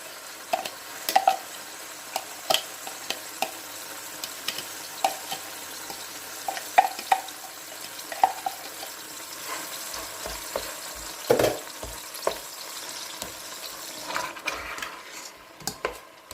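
Chopped onion frying in hot oil for a kebab dish, a soft steady sizzle with scattered faint clicks and clatters from stirring, moderately near, no voices.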